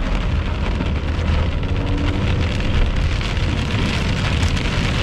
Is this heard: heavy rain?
yes